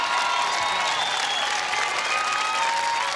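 A live arena crowd at an American Gladiators competition cheers and applauds in a dense, steady roar of clapping and voices that holds at an even, loud level throughout.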